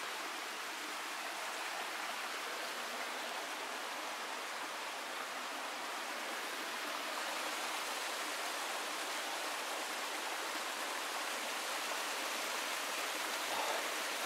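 A mountain stream flows near Königssee in the Bavarian Alps, a dense, even rushing of water close by that stays constant and unbroken, with no voices over it.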